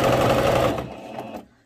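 Sewing machine running steadily as it topstitches a gathered skirt near lace, a loud dense whir lasting under a second before slowing and stopping, with softer fading mechanical ticks after.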